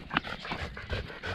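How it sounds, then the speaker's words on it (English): A pet dog pants in quick, breathy bursts close by outdoors on a walk, with a brief whimper near the start and a steady low background rumble. "That's our dog."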